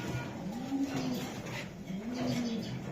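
A racer pigeon gives two soft, low coos, close by, over a murmuring background with faint voices.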